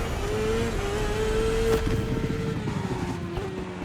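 A motorbike engine revs hard through a corner in the racing game The Crew Motorfest, a steady loud drone whose pitch rises, dips and climbs again as it leans through the turn.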